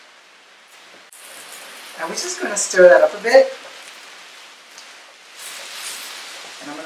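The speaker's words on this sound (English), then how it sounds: "it's raining like crazy" Heavy rain pours outside during home cooking of plantain, squash and turkey, a steady soft hiss running throughout beneath a person talking in the kitchen.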